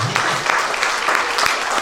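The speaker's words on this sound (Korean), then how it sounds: "우리 박수 한번 주세요." Audience applause in a church during a pastor's ordination ceremony: a short, loud burst of many hands clapping close by, with some voices mixed in.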